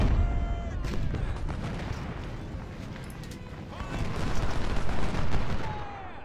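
Battle gunfire from the video game Ultimate General: Civil War, dense rattling musket volleys and crackling shots with heavier booms rolling underneath, continuous and loud throughout, swelling again near the end.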